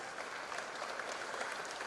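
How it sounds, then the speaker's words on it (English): A hall audience at a college freshers' induction program applauds the dignitaries on the dais, a soft, fairly distant, even patter of many hands clapping throughout. "warmly our dignitaries with a round of applause"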